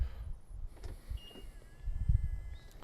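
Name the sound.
BMW car mirror and sunroof moving electrically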